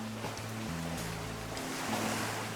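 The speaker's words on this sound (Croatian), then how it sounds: "Uvijek je valovito." Sea waves wash steadily onto the shore of a swimming bay on the island of Cres, a continuous close surge with wind buffeting the microphone and a low droning hum underneath.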